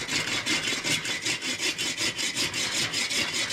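A folding saw, used for camping, cuts through a random piece of backyard wood in a steady, close back-and-forth rhythm of rasping strokes, with no talking.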